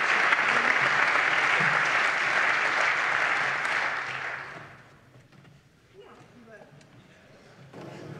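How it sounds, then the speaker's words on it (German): Members of a parliament applaud in the chamber, dense steady clapping filling the room for about four seconds before tapering off into scattered murmur and a few last claps. "Das Parlament klatscht auch Ihnen."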